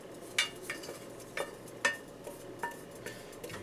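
A metal spoon scrapes and clinks against a pan while chicken juices and green onions are spooned out. Faint, scattered taps and light clatter come every half-second or so over a quiet background.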